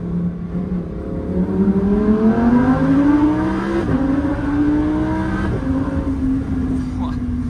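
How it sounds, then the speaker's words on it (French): A Lamborghini Huracan Evo fitted with an Akrapovic exhaust gives a deep, heavy engine note that climbs steadily in pitch through acceleration, heard from inside the car and loud throughout. "Là c'est toujours vraiment le vrai bruit lourd de la Evo."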